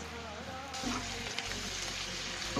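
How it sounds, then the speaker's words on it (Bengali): Cashews and raisins fry along with lightly browned onions in a pan, a soft steady sizzle that swells louder partway through, with faint stirring clicks close by. "পেঁয়াজটা তো হালকা ভাজা হয়ে গেছে, এবার দিয়ে দিচ্ছি কাজু আর কিশমিশ।"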